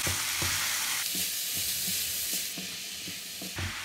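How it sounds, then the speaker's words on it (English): Cauliflower, cabbage and broccoli frying with rice in a pan for jollof fried rice, stirred with a steady rhythm of scraping strokes over a continuous loud sizzle and steam hiss, close up with no talking. "I will now add in the cauliflower, the cabbage and the broccoli and mix them together."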